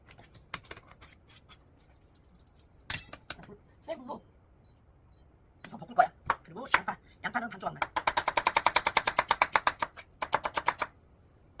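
Sweet potato stems cut with a kitchen knife while preparing stir-fried sweet potato stems: a run of quick, evenly spaced crisp chops close by, following scattered knocks and clatter, with people talking nearby.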